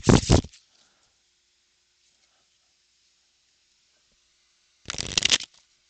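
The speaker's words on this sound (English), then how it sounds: "you can get some shuffle ASMR." Playing cards are shuffled in two quick riffling bursts, one at the start and another near the end, separated by several seconds of near silence, close up and crisp.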